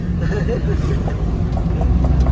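A Maruti 800 car, its exhaust modified to mimic an aircraft, gives off a loud, steady low droning rumble up close, with faint background voices.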